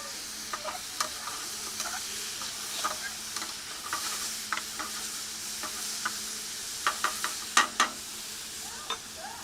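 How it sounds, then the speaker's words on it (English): Vegetables for a stir fry sizzle steadily in a hot pan while a utensil stirs them, with scattered scraping clicks over the continuous frying hiss. "And while it's frying, we want to add the stir."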